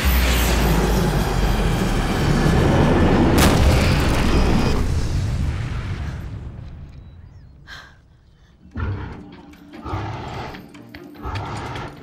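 A rocket launcher fires in a survival video game, giving a loud sustained roaring blast with heavy low rumble for several seconds that fades into quieter rumbling and a few later bursts.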